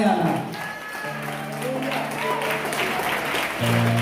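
Congregation clapping in a church swells beneath a speaking voice and tonal sounds, a moderate wash of applause that rises after the first moments and carries on under the talk.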